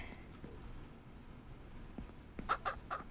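Hens in the Ranch Simulator video game cluck in a short burst of three or four close, moderately loud calls near the end, after a quiet stretch of faint background ambience.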